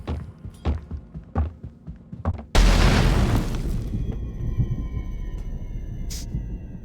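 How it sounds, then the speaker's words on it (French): An explosion in the video game Burglin Gnome goes off with a sudden loud blast after several soft footstep-like thuds, then rolls into a long rumbling roar that slowly fades under a steady electronic hum. "Je pense qu'on va causer l'explosion."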